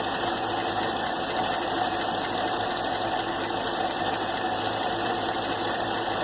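Old engine running with the sound picked up close to its throttle body, a loud, steady whirring hum with a fine ticking texture and no change in pace.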